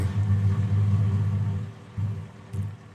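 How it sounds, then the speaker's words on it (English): Dad's loud pickup truck engine rumbles up close in a short burst, its deep throb dipping and then surging again twice toward the end, with no talk over it. "Dad's truck's loud."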